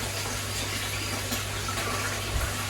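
Water in a koi pond rushes steadily through the bottom drain, a constant close gushing wash with no pauses and no voices.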